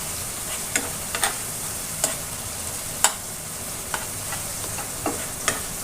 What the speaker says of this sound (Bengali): কাঁচা গন্ধ না যাওয়া পর্যন্ত ভালো করে কষিয়ে নেব।